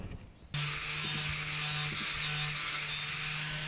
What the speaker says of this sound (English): I prepare the steel for sandblasting by cleaning it up with a wire brush on an angle grinder.